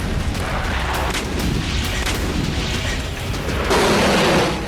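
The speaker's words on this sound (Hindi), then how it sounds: "अवदीवका में रूसी आर्टिलरी का एक्शन। गोलाबारी में यूक्रेन का अब्राहम्स टैंक तबाह हो गया।" Russian artillery shelling in Avdiivka rumbles as heavy, continuous booming and blasts, loud and dense, with a sharper surge of fire near the end.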